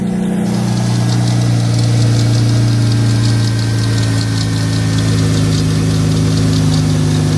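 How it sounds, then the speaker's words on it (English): A 170-horsepower naturally aspirated car engine, started after seven years stored in a garage, idles with a steady, close, loud low rumble and a faint rhythmic knock throughout. "It's a very sweet engine, like 170 horsepower, NA."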